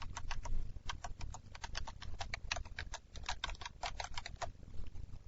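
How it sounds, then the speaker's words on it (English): A ping command being typed at a DOS prompt on a computer keyboard: a rapid, uneven run of close, crisp key clicks that continues throughout, with no speech. "at the C prompt, type the following, ping,"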